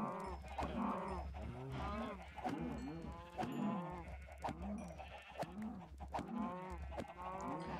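Cows in the video game Minecraft give repeated low, drawn-out moos in steady succession. The calls are fairly close and loud, and a rumbling low background runs underneath them.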